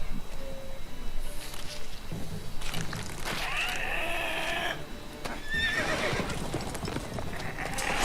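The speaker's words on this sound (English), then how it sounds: "Look at that, some dirty big griffin eating a horse." A horse whinnies amid steady hoofbeats and a dense, roaring soundscape in The Witcher 3: Wild Hunt, as a griffin attacks it, the neighs rising in pitch over constant background noise.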